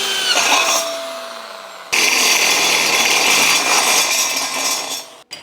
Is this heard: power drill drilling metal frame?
yes